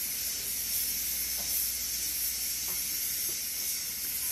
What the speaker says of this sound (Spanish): vamos a agregar lo que es el aceite. Por ahí una o dos cucharaditas de aceite para hacer el sofrito